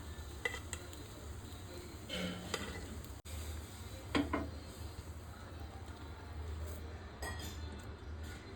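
Egg paniyaram (ponganalu) roast in a pan with a steady soft sizzle, broken by occasional light clinks and scraping as they are turned, fairly quiet and with no talking over it.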